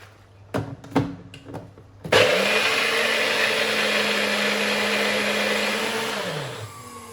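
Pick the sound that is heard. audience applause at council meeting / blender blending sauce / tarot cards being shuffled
blender blending sauce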